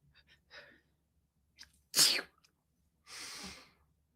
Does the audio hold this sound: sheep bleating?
no